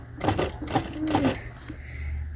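Sewing machine set for delicate fabric stitching a jeans hem, three short bursts of needle running with pauses between, close and moderately loud.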